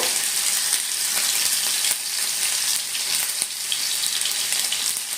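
Finely chopped ginger fries in hot oil in a pan while wheat rava upma is being made. A loud, dense, crackling sizzle is heard up close for the whole stretch, with no voices.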